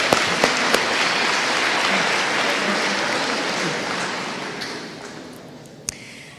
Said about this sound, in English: Now we can clap.